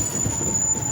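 A Kiamichi Railroad train rolls past on the tracks with a steady low rumble of wheels and cars, plus a faint thin high squeal held throughout.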